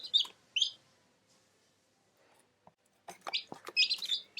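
Baby chicks peeping in short high bursts near a broody hen, a pair of chirps followed by a quiet gap and then a busier cluster of overlapping cheeps, faint and close.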